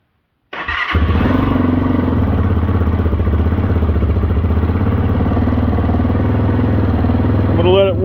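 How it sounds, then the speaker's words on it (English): A Chinese dual sport motorcycle fires up after an oil change, its single engine catching abruptly and settling into a loud, steady, close idle that holds without a break. "I'm going to start the bike up."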